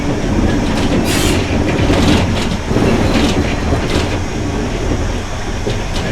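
A steam train rolls along the rails with loud, close clattering wheels and carriage rumble, with occasional squeals riding over the continuous noise.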